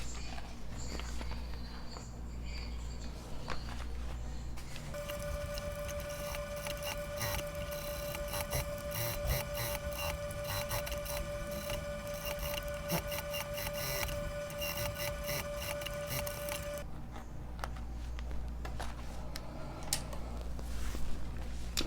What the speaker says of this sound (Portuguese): O forro nós vamos costurar aqui.